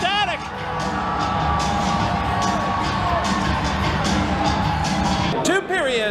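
An ice hockey crowd roars and cheers across the arena after an Indy power-play goal, a dense sustained wall of cheering and whoops with scattered shouts, heard from a distance under a nearby voice.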